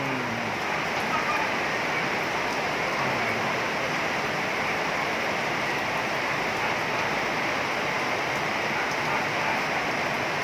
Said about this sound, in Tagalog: Lakas-lakas ng ulan.